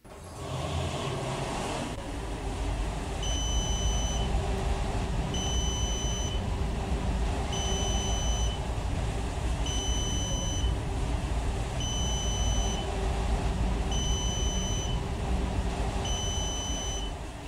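An Otis Series 5 Gen2 machine-room-less traction elevator sounds a repeated shrill beep in regular pulses, each about a second long, over a steady loud hum of cab and machinery.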